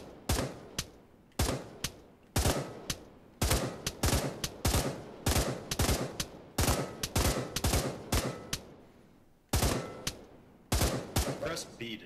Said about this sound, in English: Shoot all the targets